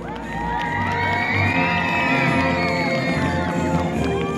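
Outdoor crowd at a local town festival prize ceremony, cheering, whooping and shouting loudly with children's voices, sustained and bustling throughout.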